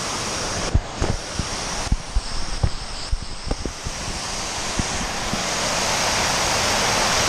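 Steady broadband rush of water overflowing in a BAC cooling tower, loud and close, with scattered knocks and bumps early on that fade into a constant roar.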